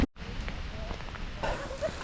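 Rain falls in a forest during a storm, making a steady hiss and patter close by, with faint bird-like chirps now and then in the background.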